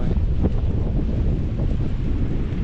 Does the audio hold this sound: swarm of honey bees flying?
no